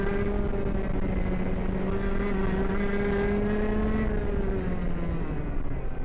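Racing kart engine, a KA-class ProKart on a test weekend, droning close and loud with a steady high buzzing tone that climbs gently as it accelerates, running continuously.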